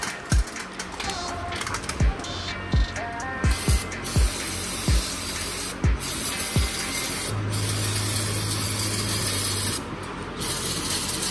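A continuous hissing spray cleans a 2017 Harley-Davidson Street Glide's front brake parts, close and fairly loud, punctuated by repeated low thumps and a brief tonal hum partway through.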